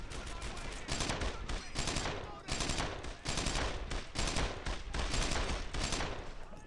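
Gunfire in Brothers in Arms: Earned in Blood, with rapid machine-gun bursts and rifle shots in dense repeating volleys, loud and sustained, with shouted voices in the mix.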